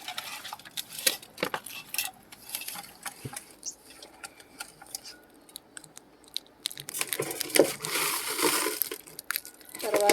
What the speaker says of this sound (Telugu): అల్లం, వెల్లుల్లి, చిన్నుల్లిపాయలు ఇలా మెత్తగా గ్రైండ్ చేసుకున్నది నూరుకొని ఇలా ముక్కలకు పట్టేలాగా కలుపుకోవాలి ఒకసారి.